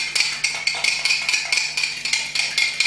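A spoon stirring vinegar lotion in a bowl, rapid rhythmic clinking and scraping strokes about four per second, close and clear.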